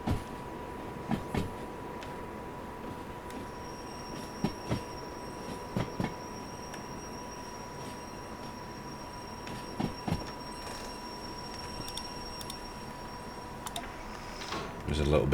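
A train running on rails in the Derail Valley video game: a low steady rumble with a faint constant tone and intermittent clicks and clacks, under a speaking voice.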